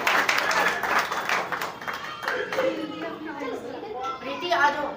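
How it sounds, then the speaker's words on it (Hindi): An audience at a women's day ceremony gives a round of applause that fades quickly into chatter and people talking nearby. "प्रीति वर्मा जी के एक बार जोरदार तालियां बजाएं।"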